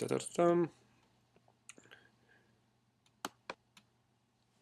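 A voice speaks briefly at the start, then sharp isolated computer mouse clicks follow during setup of a WordPress website, a few single taps spaced apart in a quiet room over a faint hum.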